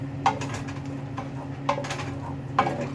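A spoon stirring chicken tortilla soup with tomatoes in a pot, three distinct clinks against the metal over a low steady hum.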